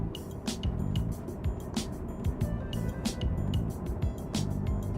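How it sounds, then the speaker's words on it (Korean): Steady road and engine noise from inside a car cruising at 80 km/h on cruise control, a continuous low rumble with rhythmic clicks and ticks repeating throughout, close and moderately loud. "시속 80에서 크루즈 컨트롤 켜고 정속 주행 해볼게요"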